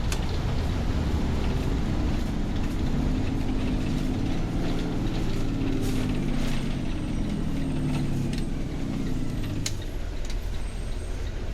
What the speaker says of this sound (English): I was letting you hear the engine brake right there